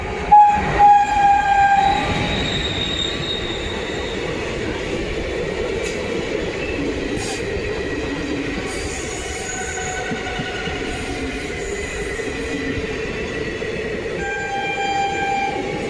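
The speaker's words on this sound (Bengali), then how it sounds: "ট্রেন আসছে, চলো ট্রেনটা পাস করে দিই" A train crosses a bridge close by: a horn sounds at the start, then a long, loud rolling rumble with squealing wheels carries on steadily, and a short second horn blast comes near the end.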